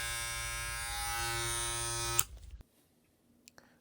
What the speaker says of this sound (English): this is a WAHL Senior boosted